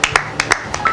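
A church congregation claps to acclaim the Lord, with a quick run of sharp, close hand claps in an uneven rhythm, standing alone without talk.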